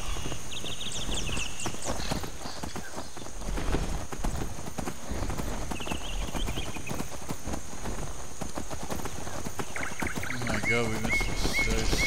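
Horse hooves clip-clop at a steady walking rhythm throughout the scene in the game Skyrim. Ambient birdsong and chimes play alongside, and voices speak over it.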